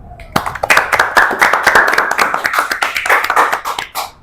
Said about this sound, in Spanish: un aplauso para el grupo